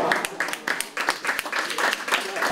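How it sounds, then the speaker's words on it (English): Crowd applauding at the Naples Holocaust Museum as a restored American flag is unveiled, bursts of clapping rising and falling in waves, with voices mixed in. "a crowd celebrated the unveiling of the restored flag at the Naples Holocaust Museum"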